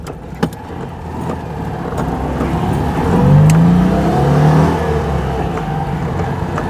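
A Citroën 2CV being driven hard, its small engine revving loudly and pulling up through the gears, close and continuous, with a sharp knock near the start.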